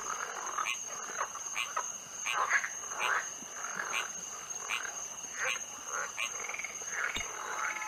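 A frog croaks repeatedly in the puzzle video game Rusty Lake Paradise, a rhythmic series of short croaks at regular intervals over a steady high electronic tone.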